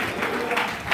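A church congregation at a Telugu worship meeting breaks into steady applause in praise of God, a dense, even patter of many hands heard close by with voices mixed in.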